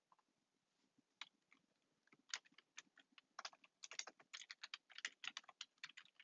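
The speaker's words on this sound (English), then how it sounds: "I know my keyboard's really loud." A loud computer keyboard clatters as someone types in uneven bursts, sharp clicky keystrokes close up and speeding into rapid runs, with no talking.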